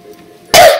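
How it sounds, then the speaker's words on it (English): A single loud, close cough bursts out abruptly after a quiet moment, then fades over a fraction of a second. "Sorry. I'm coughing."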